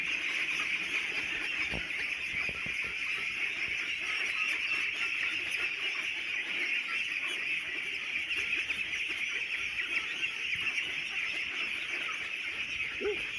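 Young meat ducks on a duck farm, in pens of about 1,600 birds, make a dense, continuous chorus of quacking and honking that holds steady at full volume throughout, with no talking.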